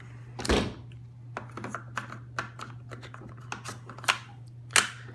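A Geissele Super Sabra trigger pack being fitted into an IWI Tavor rifle, a series of light plastic-and-metal clicks and taps at irregular intervals, close up, over a low steady hum.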